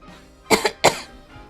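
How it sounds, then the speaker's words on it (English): Two harsh coughs in quick succession, close and fairly loud, with a quiet pause between and no talking. "if you hear me coughing a lot in this video"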